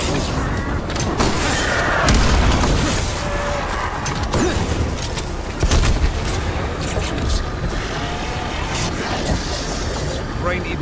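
A combat bomb in Call of Duty Black Ops Cold War Zombies, Jingle Hells map, detonates with a heavy boom amid continuous gunfire and chaotic battle noise, while voices talk over the loud, dense fighting.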